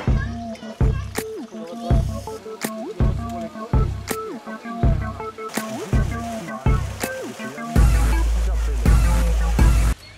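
Five freshly caught fish are gutted at a zoo fishing pond, giving wet squelching and dripping sounds in a repeated rhythm of close, soft strokes, ending in a louder splashing stretch.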